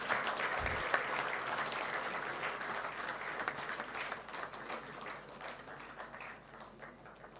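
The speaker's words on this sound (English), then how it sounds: "Let's give a big round of applause." Steady crowd applause fills a hall at a hackathon grand finale award ceremony, sustained throughout and slowly easing off toward the end.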